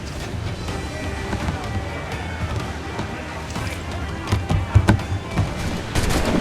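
Naval cannons fire in a pirate-era sea battle in Assassin's Creed Black Flag, a steady rumble of booms and cracks, with a cluster of heavier blasts toward the end, mixed with game music and a voice shouting.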